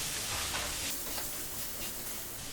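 Diced potatoes and green chickpeas fry in a pan with a continuous close sizzle and hiss, a few soft scraping stirs breaking through the steady crackle, with no talking.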